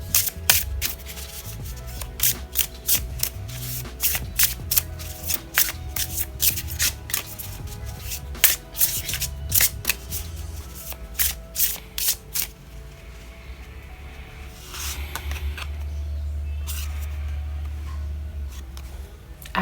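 Love Story Oracle cards are shuffled by hand in a long series of quick, crisp riffling bursts, close and clear, followed by softer rubbing and sliding of the deck near the end.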